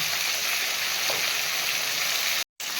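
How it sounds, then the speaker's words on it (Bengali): Cumin seeds and a bay leaf sizzle in hot oil as tempering for a duck egg curry, a steady, close, bright crackling hiss that cuts out briefly just before the end. "দেবো জিরে ফোড়ন দেব সামান্য জিরে তেজপাতা গোটা বড় মশলা"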